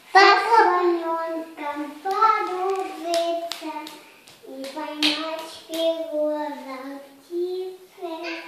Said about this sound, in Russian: И я тоже хлопаю